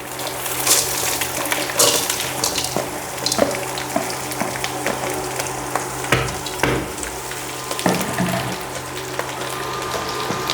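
Lentils and potatoes dropped into a hot pan of fried onions give a steady, close sizzle and frying hiss, with scattered stirring scrapes and clatters over the whole stretch.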